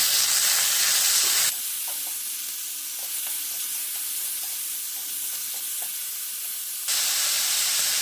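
Onion and tomato sauté in a black iron kadhai, giving a loud sizzling hiss that drops to a quieter crackle with small ticks and stirring sounds, then flares loud again.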